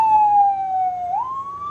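An ambulance siren on a road in Chiapas, Mexico, a loud, steady wailing tone that slides down and then rises again, close by, with no voices.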